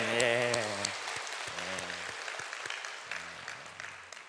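A church congregation during a Sunday sermon shouts joyfully and claps, with a brief chorus of raised voices up front and then scattered, moderately loud applause that gradually thins out.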